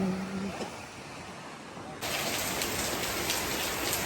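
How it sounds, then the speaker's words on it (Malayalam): Heavy rain falls near the coast, a dense steady hiss of drops on surfaces. Midway it grows sharply louder and brighter, as if the pour were suddenly heard closer. A faint tonal sound appears briefly at the start. "ഇവിടെ നല്ല മഴയാണ്, എല്ലായിടത്തും മഴയായിരിക്കും."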